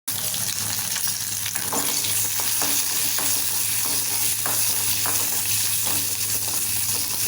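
Four chopped shallots with a few curry leaves sauté in hot oil for tiffin sambar, giving a steady close-up sizzle with repeated scraping stirs of a spoon against the pan at a regular pace.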